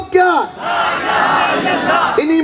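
A rally crowd in Kashmir shouts slogans at Independence Day celebrations, a loud massed roar of voices that swells and holds, framed by a single voice at start and end.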